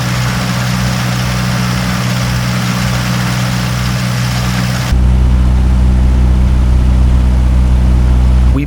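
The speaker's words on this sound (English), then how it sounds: "let us switch back and forth between the Cherokee and the Cessna cockpit" Steady engine drone inside the cockpits of a Piper Cherokee and a Cessna 172 in flight, a continuous loud low hum that shifts abruptly in tone halfway through when the recording switches from one aircraft to the other.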